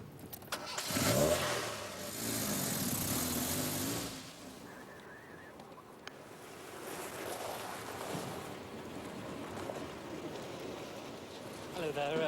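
A radio car starts and drives away, with a loud burst of engine noise that fades into a rolling drone as it pulls off. Voices talk over part of it.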